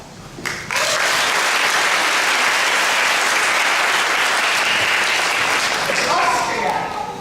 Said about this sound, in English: As I read your country's name, ladies, everybody else, we can applaud.